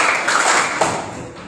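A classroom group claps together in a short, loosely synchronized burst of sharp hand claps, close and fairly loud, with no talking over it.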